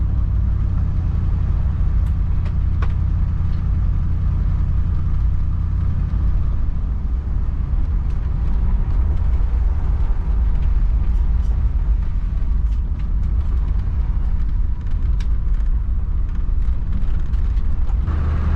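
A 1974 Ford Country Squire station wagon cruises along with a loud, steady low engine rumble and road drone heard from inside, holding an even level throughout with faint rattles on top.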